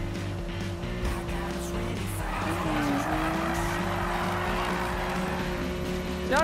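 Car drifting in Need for Speed, tires squealing in a long continuous screech over a steady engine drone, loud and close throughout.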